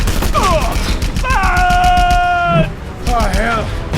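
Rapid flak gunfire from Panauan military anti-aircraft guns in Just Cause 2, crackling bursts running throughout under game character speech and a sustained tonal shout.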